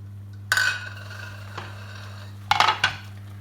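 Pre-weighed flour stirred into boiling butter and water in a pan: two bursts of clattering scraping against the pan, with a faint knock between them, over a steady electrical hum.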